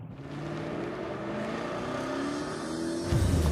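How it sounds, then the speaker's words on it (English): A car driven by a trainee driver on a course accelerates steadily from 70 toward 100, its engine droning with rising harmonic tones under a constant road roar, ending in a louder low rumble. "Mike was at 70, but now he's accelerating towards 100."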